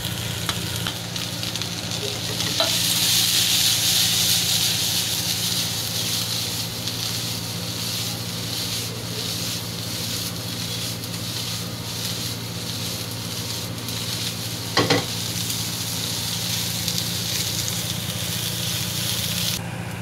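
Spring onions sizzle and fry in a hot pan with green chillies for a spicy water chestnut dish, making a steady, close hiss with a few brief stirring clinks.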